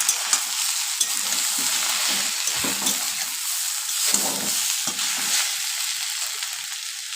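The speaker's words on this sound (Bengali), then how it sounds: "আরেকবার নাড়িয়ে নিয়ে" Mixed vegetables fry with ground cumin and coriander in a pan, a steady close sizzle broken by repeated spatula stirs and scrapes, moderately loud throughout.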